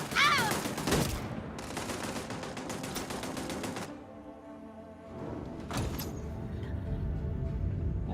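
Rapid automatic gunfire in a video game, dense bursts up front that break off, then a sharp shot later over a quieter background.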